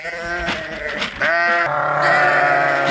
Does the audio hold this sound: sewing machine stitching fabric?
no